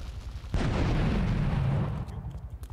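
Gunfire from a handheld gun in Grand Theft Auto 3, a loud burst of rapid shots and a booming rumble lasting about a second and a half, then fading to quieter background.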